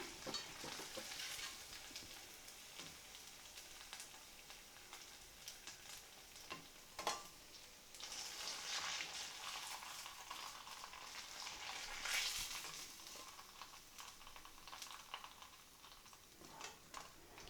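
Pieces of cut idli fry in hot oil in a pan, a faint, steady crackling sizzle with occasional louder pops and stirring clicks, no voices.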